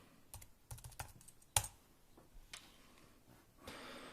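Close computer keyboard typing, quick soft key clicks in short bursts with one sharper tap, then a brief hiss of noise at the end, quiet overall.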